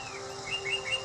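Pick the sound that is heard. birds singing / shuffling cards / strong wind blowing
birds singing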